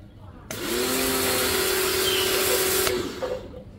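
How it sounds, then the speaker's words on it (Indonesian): A Yasuka HPW70-XP 1000-watt high-pressure cleaner kicks on and sprays water, giving a loud, steady motor whine and hiss for about two and a half seconds before cutting off abruptly. "bagaimana saya mengulas high pressure cleaner dari Yasuka HPW 70 XPA"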